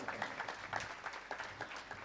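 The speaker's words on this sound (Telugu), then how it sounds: "చప్పట్లు కొట్టి దేవుని మహింపరుద్దాం." A church congregation claps together in a dense, steady patter of applause that carries on without pause, with faint murmuring underneath.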